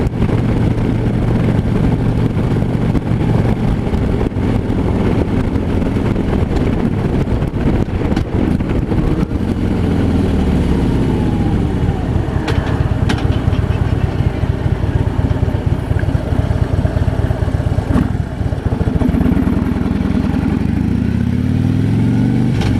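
Steady low engine rumble from a 2015 Harley-Davidson FLHTP touring motorcycle on a test ride, loud and continuous with wind buffeting the microphone and a few gear changes and rev shifts, no talking.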